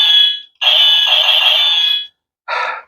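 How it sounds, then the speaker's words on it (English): Electronic sound effect from a Gozyuger Tega toy sword: a short burst, then a longer shrill, buzzy synthetic tone, then a brief final blip, loud and close with no voices. "That classic sword noise from back in the day"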